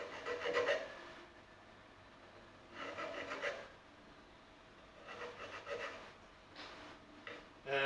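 Metal file rasping the frets on a cookie-tin ukulele, several separate bursts of a few strokes each with quiet pauses between, close and moderately soft.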